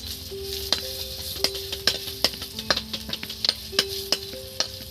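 Homemade raisins frying in oil in a pan while being stirred, with a soft steady sizzle under a series of sharp metallic clinks and scrapes from a spoon against the pan, coming irregularly every fraction of a second, up close.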